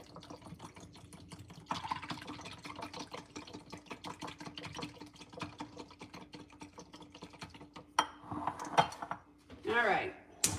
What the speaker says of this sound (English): And we're gonna whisk.